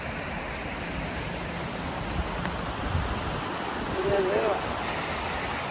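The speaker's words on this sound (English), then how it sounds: "just above my voice, you can probably hear the sound of some rapids" A steady broadband rush of river rapids cascading over a natural weir fills the scene evenly and continuously, a constant wash of water noise at moderate distance with no clear speech.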